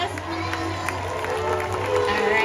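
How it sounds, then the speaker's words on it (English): An outdoor audience at SeaWorld San Diego's Orca Encounter killer whale show applauds and cheers in a sustained, even wash of clapping and scattered shouts, with a faint steady hum underneath. "So can we please give them a big round of applause?"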